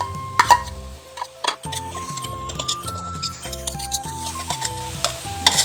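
Garlic and red onion fry in pork grease for pad thai, a steady sizzle under repeated stirring and scraping, with metallic clinks and a brief lull near the second mark.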